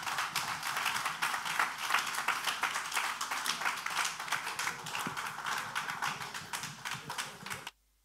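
Sustained applause from a lecture audience in an auditorium, dense rapid clapping steady and fairly close for several seconds before stopping abruptly.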